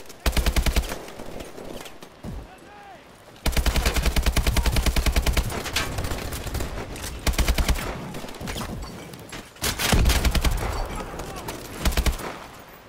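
Rapid automatic gunfire from a futuristic rifle in Call of Duty Advanced Warfare, loud sustained bursts broken by short pauses, with a player talking intermittently over it.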